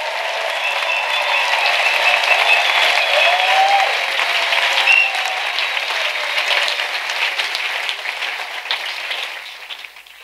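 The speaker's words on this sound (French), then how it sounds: "Let's clap for Jesus." A church congregation applauds Jesus during a New Year's Eve night prayer service, with dense, loud, sustained clapping from a crowd for about ten seconds before it fades at the end.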